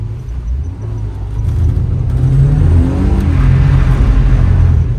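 A car engine rumbles and rises in a steady rev during a drifting session, loud and continuous throughout with no voices.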